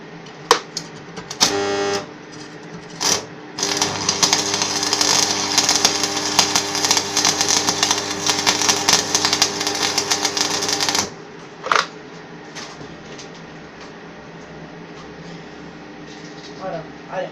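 A stick electrode for arc welding is scraped against a surface at close range, giving a loud, continuous gritty rasp for several seconds, broken by a few short scratches and pauses.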